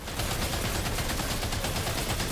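Continuous dense gunfire in Death Stranding 2, a loud, steady rattling barrage with no breaks and no talking over it.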